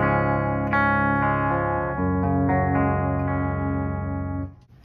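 Dry electric guitar routed through a Boss LS-2 line selector rings out as sustained, distorted chords, a few strums letting notes ring loudly before cutting off at the end.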